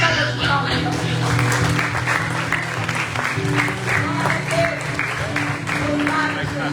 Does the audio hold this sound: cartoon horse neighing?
no